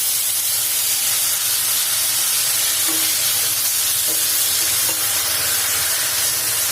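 Chopped tomatoes hiss and sizzle steadily in a hot frying pan with garlic, a loud continuous frying noise with a few faint clinks of a utensil stirring.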